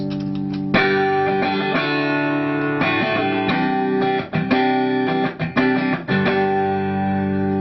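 Stratocaster electric guitar strumming chords through 100 feet of cable and five pedals into a Deluxe Reverb amp, slightly duller and more processed, with a sustained tone and brief gaps between chord changes.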